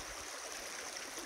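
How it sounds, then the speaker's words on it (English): Steady wash of creek water flowing over an outdoor streambed, a continuous close rushing and gurgling hiss with no voices or breaks. "got down to the creek today"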